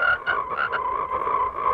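Toads croak in a cartoon, a few quick rasping calls at first, then a longer steady croak, loud and close with no talking.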